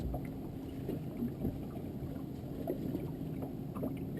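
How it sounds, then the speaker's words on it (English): Steady wind rushes across the Fox River at Oshkosh, Wisconsin, during the fall white bass run, a continuous low roar mixed with faint water lapping against a boat, with no voices. "Hear the wind?"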